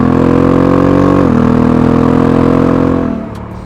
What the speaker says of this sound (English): the cool Africa twin engine sound